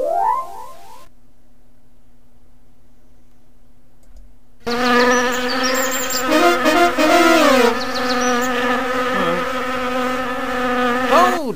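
Cartoonish buzzing of bees in the children's video game Adiboo: Magical Playland, with a brief musical note, a quiet hum, then a bright, layered buzz and chiming game tones that waver up and down.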